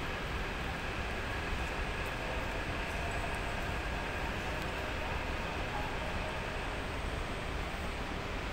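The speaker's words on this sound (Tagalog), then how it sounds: "Parating na yung MRT." A steady rumble of an arriving MRT metro train rolling along the rails, continuous and fairly even, with faint high squeaks overhead and no voices.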